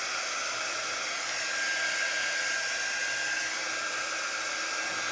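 A hair dryer blows steadily and close up, drying icing on a gingerbread kit decoration, a continuous even whoosh for several seconds with no talking.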